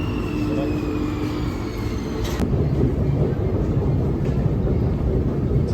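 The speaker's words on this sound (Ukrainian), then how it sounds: "А вот девочки метро едет" A metro train pulls into an underground station with a loud, steady rumble of wheels and carriages that swells slightly as it comes closer, and no one speaks.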